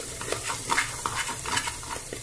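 Goat head curry masala frying and sizzling in a pan with a little oil, with repeated stirring scrapes and soft clatter at a steady close-up level, no talking.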